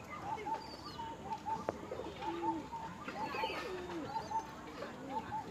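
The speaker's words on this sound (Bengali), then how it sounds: "এটা হচ্ছে একদম ডিপ, মানে কি প্রচণ্ড ডিপ চোখের পায়রা" White pigeon with deep-set, clear eyes and an all-white beak gives soft, repeated coos in a steady rhythm, fairly close, over a busy background hum.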